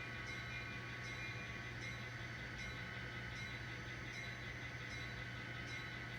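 SC40 locomotive heard from a distance, a steady low diesel drone with a continuous rail rumble and a faint high whine running throughout, partly masked by a nearby compressor hum; no talking.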